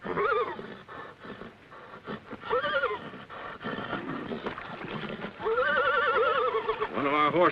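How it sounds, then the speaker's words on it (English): A horse neighs repeatedly in an old Lone Ranger western film, with loud, wavering whinnies recurring across the scene and other horse noises between them. "One of our horses is bogged down."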